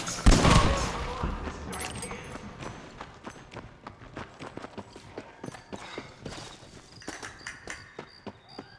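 Horse hooves clip-clop in Red Dead Redemption, a steady run of close, sharp hoofbeats that follows an opening burst of louder noise, with distant shots faintly behind.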